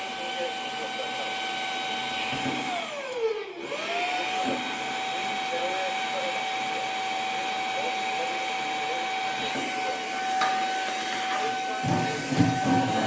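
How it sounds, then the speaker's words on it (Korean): A vacuum cleaner's exhaust blows air into a wood stove, giving a loud, steady motor whine whose pitch sags sharply for a moment and then recovers before running on evenly. "청소기가 뒤로 바람이 나가기 때문에 바람을 넣어줍니다."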